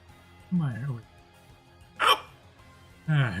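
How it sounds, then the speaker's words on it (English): A person hiccups several times at close range, three abrupt voiced gulps spread about a second apart, alone with no other talk. "Ah, hiccups."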